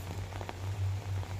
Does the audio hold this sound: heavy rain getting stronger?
yes